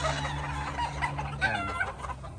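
Chickens and roosters cluck and call together at a game farm, a steady chorus of overlapping bird sounds close by, with no talking.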